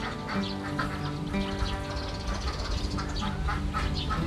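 Egg-laying ducks on a duck farm quack in a dense, overlapping chorus, steady and fairly close, with many birds calling at once and no clear break.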